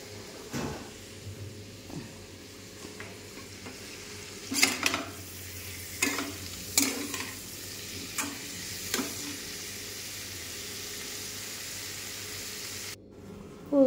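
A spoon stirs a tomato and vegetable curry in hot oil in a home kitchen, with a soft steady sizzle underneath and a series of sharp scraping, clinking strokes against the pan at irregular intervals, no talk.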